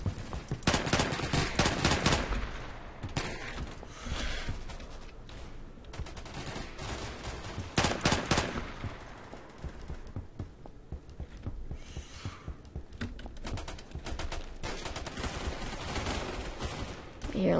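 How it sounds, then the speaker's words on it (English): Heavy gunfire rattles in the Phantom Forces video game, dense automatic bursts, loudest near the start and again around the middle, continuous and without speech. "I hear lots of gunfire."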